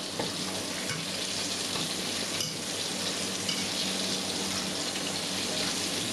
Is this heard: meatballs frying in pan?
yes